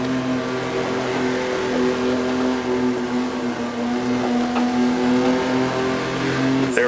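A 1958 Formula One car engine in Automobilista, a loud steady harmonic drone near at hand as the car settles into second gear, holding an even pitch with slight wavering and no talk.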